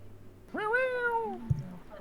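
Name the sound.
cat meowing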